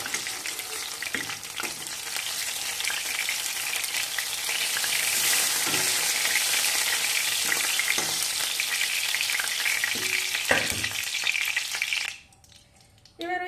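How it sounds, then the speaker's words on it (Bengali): Pieces of pointed gourd (potol) fry in hot oil with a loud, steady close sizzle, broken by occasional stirring scrapes, before the sizzle drops away abruptly near the end. "এবার পটলগুলো ভেজে নিলাম খুব বেশি লাল করে ভাজবো না"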